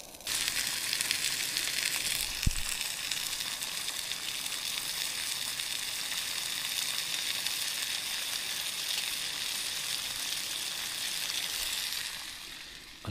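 Food frying outdoors at a coastal winter wild camp, a steady close sizzle running unbroken for the whole stretch with one sharp knock early on, no voices.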